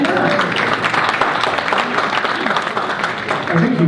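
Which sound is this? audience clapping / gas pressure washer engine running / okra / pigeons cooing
audience clapping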